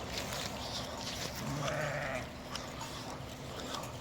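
Sheep bleat faintly in the distance near a stream over a low outdoor background, with a couple of wavering calls drifting in and out.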